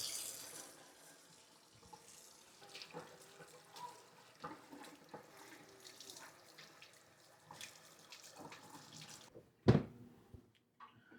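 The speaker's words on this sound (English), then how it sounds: "I'm gonna actually rinse these off because they're really just full of dirt" Dirty potatoes rinsed under a running kitchen tap, a steady low water splash with small knocks and handling sounds, then a sharp louder clatter near the end.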